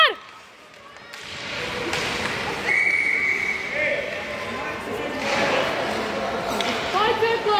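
A referee's whistle shrills during a youth basketball tournament game, a sustained blast amid the echoing gym, with ball bounces, squeaking shoes and spectators talking and shouting over it.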